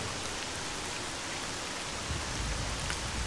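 Rain falls in a video game alongside fire, a dense, even hiss of raindrops pattering steadily with no break.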